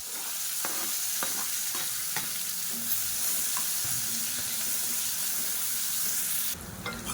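Finely chopped shallots fry in hot oil with asafoetida and chilies in a pan for a South Indian side dish, a steady loud sizzle broken by repeated scraping stirs, close and continuous without speech.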